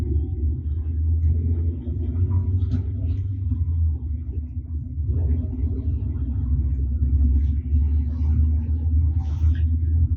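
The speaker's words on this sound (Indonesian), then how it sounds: "Kalau mobil sudah berjalan seperti ini" A car rolling along in second gear after an upshift, a steady low engine rumble and road noise running throughout at an even level.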